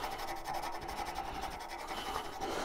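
Rough 80 grit sandpaper rubbed along the grain of a softwood pine wand blank gives a steady, close scratchy rasp in continuous back-and-forth strokes, with no talk.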